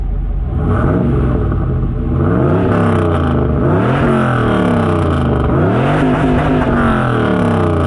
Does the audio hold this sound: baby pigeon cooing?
no